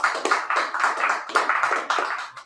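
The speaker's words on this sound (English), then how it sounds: "one more round of applause for Stephen Blue" Audience at an open mic poetry reading in a cafe claps and applauds, a dense patter of many hands heard close, with a few surges in the clapping and no voices.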